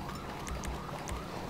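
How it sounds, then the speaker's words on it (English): A police car siren in the GTA 5 police mod LSPDFR wails in a wavering, steady tone, heard from some distance, loud and continuous throughout with no talk. "I still hear my siren all the way over there"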